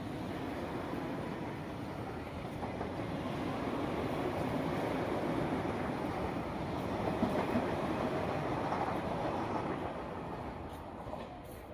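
The Howrah–Kamakhya Vande Bharat Sleeper Express runs steadily, a continuous broad rolling rumble with faint rail clatter, fairly quiet and unbroken throughout.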